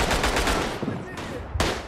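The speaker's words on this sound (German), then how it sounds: "denn ich höre schon wieder Schüsse, die um meinen Kopf rumpeitschen" Machine-gun fire in the World War I shooter game Tannenberg crackles in rapid bursts, loud and close at first, then thinning out before a final sharp shot.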